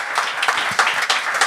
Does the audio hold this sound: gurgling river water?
no